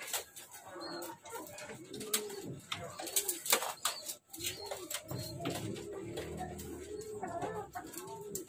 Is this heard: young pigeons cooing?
yes